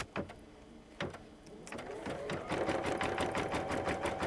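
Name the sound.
embroidery machine stitching across the bottom of a fold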